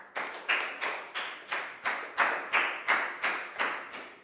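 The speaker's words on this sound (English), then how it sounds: "Big round of applause for Prel," Classroom clapping for a student in a Year 4 science lesson: about a dozen evenly spaced, crisp claps in a steady rhythm, close and distinct with no talk.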